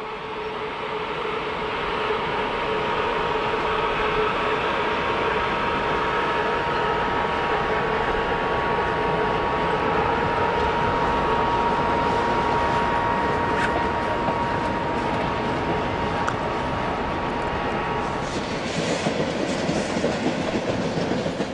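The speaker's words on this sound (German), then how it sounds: "Ein Interregio hat Ausfahrt." An Interregio train pulls out of Leipzig Hauptbahnhof in the 1990s, bound for Dresden, its carriages rolling past with a steady, loud rumble and rhythmic clickety-clack of wheels over rail joints, continuous throughout.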